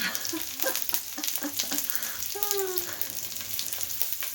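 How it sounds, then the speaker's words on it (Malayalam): Green chillies crackling and frying in hot oil for a Kerala mezhukkupuratti, a continuous close sizzle with small pops throughout and a brief quiet voice partway through. "പച്ചമുളക് കിടന്ന് പൊട്ടിത്തെറിക്കണം."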